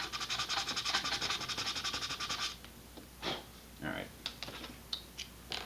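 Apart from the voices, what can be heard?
sanding underside of Estes model rocket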